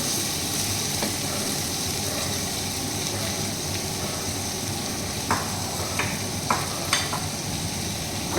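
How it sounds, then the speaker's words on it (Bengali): Katla fish pieces are stirred and fried in a pan, with a steady close sizzle throughout and a few sharp scraping clicks of the spatula near the end, no voices. "আমি এইভাবেই নাড়াচাড়া করছি, সেইভাবে কড়া করে ভাজছি না, কিন্তু আবার একদম কাঁচাও নয়"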